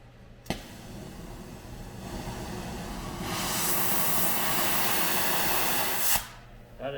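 A torch throws a steady, rushing hiss of flame onto metal to heat it before a bend, starting after a sharp click and swelling louder midway before cutting off abruptly near the end.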